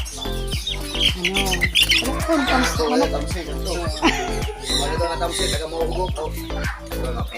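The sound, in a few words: birds squawking at a bird farm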